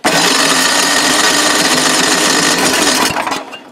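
A snowblower engine being pull-started with the choke partly set, giving a loud continuous mechanical roar and rattle for about three seconds before it cuts out and dies away.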